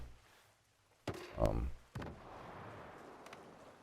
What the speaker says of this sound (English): It takes 4 shots to kill somebody with it.